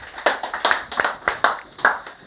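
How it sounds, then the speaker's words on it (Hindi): Clapping from a small group at a tunnel safety training session, a sparse run of about a dozen distinct, uneven claps close by, with no continuous crowd wash. "एक बार अपने लिए जोरदार तालियां बजा दीजिए"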